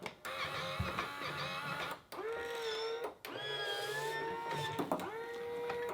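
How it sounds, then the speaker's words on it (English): A small Powermatic 3 Plus electric cigarette rolling machine whirs and hums steadily with a rising motor pitch, pausing briefly twice before starting up again. "you hear the machine engage and it starts up"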